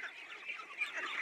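Month-old vaccinated ducklings on a duck farm, a close, overlapping chorus of shrill peeping quacks that carries on without a pause.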